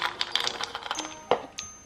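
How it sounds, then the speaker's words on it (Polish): Fine granular slime powder pouring and pattering into a container, with small ticking and rattling sounds close to the microphone. "Sypuję proszek."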